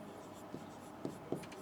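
Chalk or marker writing on a board during an English narration lesson, with three short faint taps and scrapes spaced apart over a low steady room hum.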